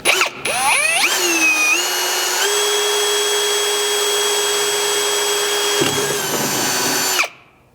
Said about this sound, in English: Then we're going to grab an 1/8 inch drill bit to drill a pilot hole at all 4 locations.